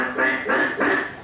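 A storyteller's voice imitates a duck with three nasal quacks in steady rhythm, close and fairly loud, during a children's storytelling performance at a national primary-school contest.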